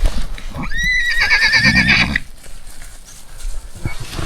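A horse in Mongolia lets out a loud, close whinny lasting over a second, followed by snorting and shuffling movement nearby.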